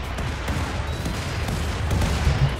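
A starship gun fires a volley in modded RimWorld, making a rumbling, continuous barrage of booming shots that builds slightly louder toward the end.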